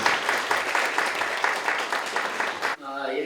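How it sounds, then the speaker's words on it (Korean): An audience at a talk concert applauds to welcome a speaker to the stage, dense clapping sustained for under three seconds before cutting off into a voice. "큰 박수로 환영해 주시면 앞으로 모시도록 하겠습니다"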